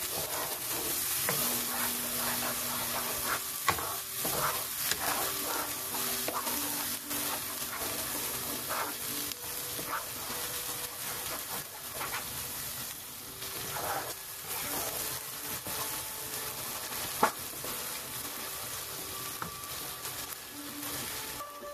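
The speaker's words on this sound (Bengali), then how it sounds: "এখন সামান্য আমি একটু ভেজে নেব মশলাগুলো" Ground spice and onion paste frying in a pan while being stirred, a continuous soft sizzle with occasional scraping and clinking, fairly quiet and steady, no talking.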